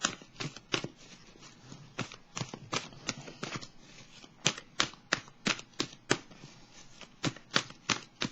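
Tarot cards being shuffled for a reading, a quick run of crisp, irregular riffling clicks and flicks, fairly close and moderately quiet, with no talking.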